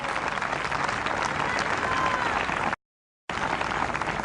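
A church congregation at an outdoor park event gives a big applause of praise to God: steady, dense clapping from a large crowd, continuous and even, broken by a brief cut to silence near the end before resuming.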